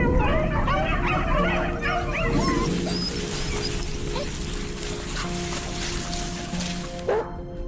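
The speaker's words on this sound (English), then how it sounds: "Hunters then tune into the dog's barking" A pack of hunting dogs out after wild boar bark and yip loudly and continuously, with whimpering cries in among the barks, over a dense, noisy outdoor background that ends in a sudden cut.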